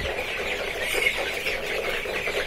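Tiger chicken chicks on a small Bangladeshi aseel poultry farm, a continuous close chorus of soft clucking and cheeping with no talk.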